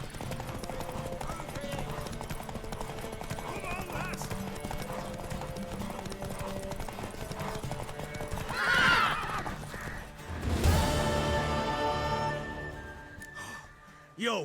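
A horse in The Witcher 3 clip-clops along at a steady pace, then lets out a loud, close whinny and snorts near the end.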